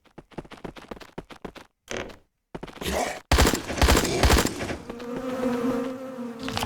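Weapon reloading in the Atomic Exile extraction shooter video game: a quick run of rapid mechanical clicks and clacks, a short gap, then louder metallic clunks settling into a steady hum.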